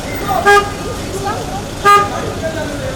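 A car pulling up with two short horn toots, about a second and a half apart, loud and close, over a busy background where people talk nearby.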